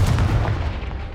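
Confringo blasting spell in Hogwarts Legacy: a loud, deep, rumbling blast that fills the short moment and fades slightly toward the end.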